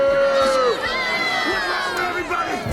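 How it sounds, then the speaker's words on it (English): A dense stadium crowd in Pixar's Cars roars and jeers at race car Chick Hicks, loud and close, with a sustained wash of voices and a falling tonal cry cutting through. "They get booed."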